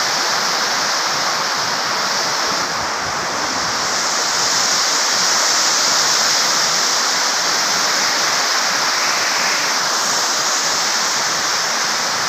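Rushing high water roars as a loud, steady, dense wash of noise that holds unchanged for over twelve seconds, with no talking over it.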